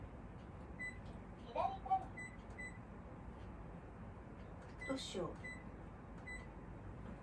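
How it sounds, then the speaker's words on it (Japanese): Kitchen timer being set while cooking, giving short high electronic beeps in small clusters through the clip, fairly faint under a woman's quiet speech and kitchen background noise. "人参って何分で湯がかる、ちょっとタイマーつけておこうか。"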